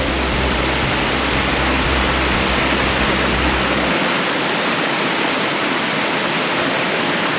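Water flows at a spring-fed, concrete-edged pond in a nature preserve, a loud, constant broadband rush like a small waterfall. A low rumble underneath drops away partway through while the steady splashing continues, with no voices.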